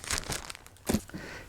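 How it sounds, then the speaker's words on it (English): A clear plastic bag from a home DNA cheek-swab test kit crinkles as it is handled up close, with two brief bursts of rustling and a softer crackle at the end. "close that and put it in your clear plastic bag"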